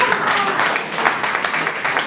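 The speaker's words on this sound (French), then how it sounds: "Applaudissez alors très fort." A crowd at a marketing presentation claps with dense, sustained applause, the clapping steady and fairly loud throughout.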